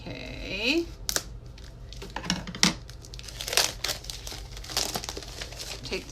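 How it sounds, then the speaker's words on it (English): Plastic wrapping crinkles and tears as it comes off a paper craft kit, with close, uneven bursts of rustling and ripping and a voice briefly heard. "Take this wrapping paper off, or plastic I should say"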